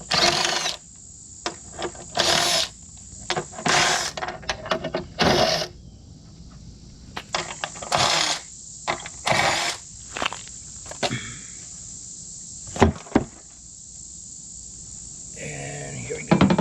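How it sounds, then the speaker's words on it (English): Screws being backed out of the step on a RAM 1500 pickup, heard as short bursts of clicking and ratcheting with pauses between them, close and fairly quiet over a steady high-pitched hum. "Alright, so I'm going to take all these screws out."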